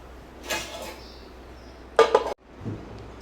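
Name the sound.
stirring sambar in a cooking pot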